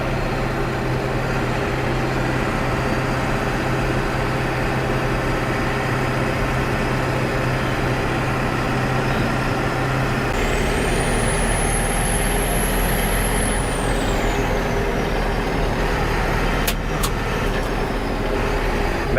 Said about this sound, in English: That sucker spools fast.